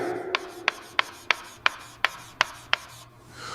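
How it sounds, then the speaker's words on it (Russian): A board being wiped clean with an eraser, heard as eight quick, evenly spaced scrubbing strokes, each a short sharp rasp, close by and with no talking. "а я сотру с доски"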